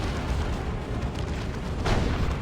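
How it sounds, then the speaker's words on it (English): A plasma cannon strikes in the Warhammer 40k strategy game Dawn of War 2, landing as a dense low boom within a continuous loud rumble of battle noise. "Plasma cannon gets a good hit."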